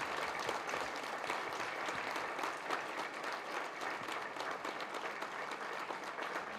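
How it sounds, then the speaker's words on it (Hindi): Audience standing to applaud in welcome of a speaker at a memorial lecture, continuous dense clapping, somewhat distant and even in loudness throughout several seconds. "एक बार अपने स्थान पर खड़े होकर तालियां बजा के बुलाएं आदरणीय पुष्पेंद्र कुलश्रेष्ठ जी"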